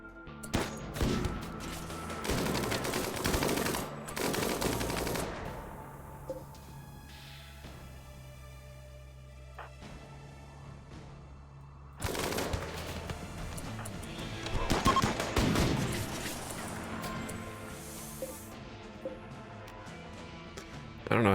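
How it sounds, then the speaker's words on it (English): Heavy SMG gunfire in the RimWorld colony game: clattering bursts of rapid shots in two loud clusters separated by a quieter stretch of lingering ringing and scattered impacts, sounding fairly close with no talk over it. "the people that they are shooting with the heavy SMG are shielded, so Cheyette and Tony"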